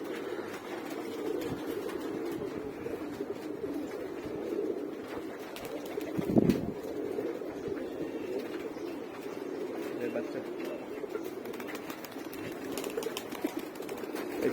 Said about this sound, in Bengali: এটা দেওয়ার পর থেকে কবুতর সব এইখানে নামে।